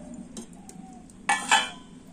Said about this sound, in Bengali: আর এবার আমি ব্যাটারটা থেকে ঢাকাটা খুলে নেব